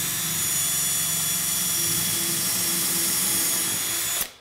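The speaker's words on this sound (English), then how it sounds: "We're gonna drill a hole with it." Power drill spinning a pneumatic nail used as a makeshift bit to bore a hole, giving a steady, fairly loud motor whine that cuts off abruptly at the end.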